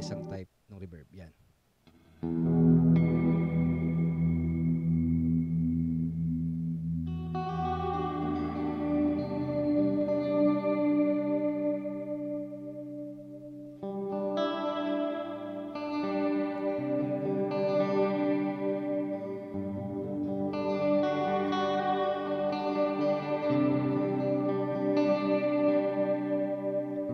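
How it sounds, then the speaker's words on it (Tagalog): Electric guitar run through the reverb setting of an M-VAVE Tank G multi-effects pedal, sustained notes and chords ringing out with long washy tails, played in separate phrases with brief gaps between them. "Isang type ng reverb."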